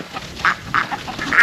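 Ducks on a farm pond quack several times in quick, irregular bursts, close and fairly loud over steady outdoor background noise.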